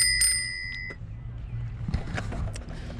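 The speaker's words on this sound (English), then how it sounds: "Added this bell." A cheap handlebar bell on an e-bike rings near the start as a bright ding with a trailing shimmer, followed by a couple of softer taps, then fades into handling noise and low background rumble.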